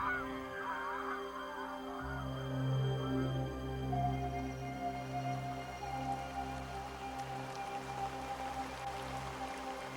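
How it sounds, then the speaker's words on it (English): Geese honk repeatedly overhead, a steady chorus of calls layered over a constant patter like rain and a low rumbling hum. "This morning a flock of geese went over."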